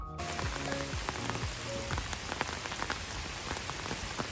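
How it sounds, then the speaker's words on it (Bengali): Rain falls steadily by Lake Brienz in Switzerland, a dense, close patter of drops on surfaces. It sounds evenly throughout with no voices. "দেখো বৃষ্টিটা হচ্ছে"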